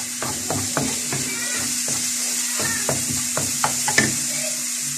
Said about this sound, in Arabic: غادي نضيف لها حتى البطاطا